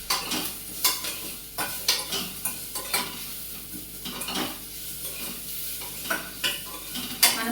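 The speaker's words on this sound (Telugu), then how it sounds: "చూడండి, నాకు తిరగమాత ఫ్రై అవుతుంది" Tempering spices frying in oil in a pan for a fenugreek dal, a loud sizzle under repeated scraping and stirring strokes of a spoon against the pan, no voices.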